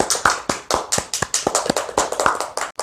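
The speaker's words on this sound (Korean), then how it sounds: "우리 하나님께 영광의 박수를 드립시다." Hands of a church congregation clap together in quick, rhythmic unison during a worship service, sharp evenly spaced claps close by and loud, with a brief break near the end.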